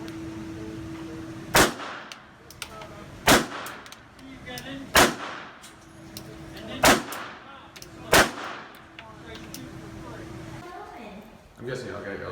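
AR-15 rifle firing 5.56 rounds at a shooting range, five loud sharp single shots spaced evenly about every second and a half, with a voice talking underneath between the reports.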